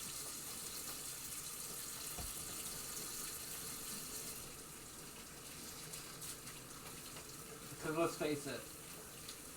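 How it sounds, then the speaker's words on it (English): Tap water runs steadily from a faucet into a sink for handwashing, a close, continuous broadband rush with a slight change partway through, and a voice briefly speaks over it near the end. "Always wash your hands after handling eggs."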